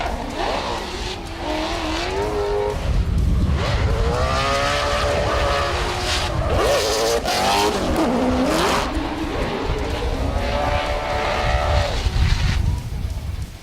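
Drift cars, including an Achilles Radial Nissan 370Z, skid through a battle at a drifting jamboree in Melbourne, with loud continuous tire squeal and screeching wavering over engine roar throughout.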